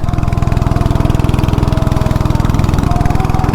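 A go-kart's small engine, mounted on the right side and running hot, idles steadily up close with a fast, even pulsing chug that holds constant throughout.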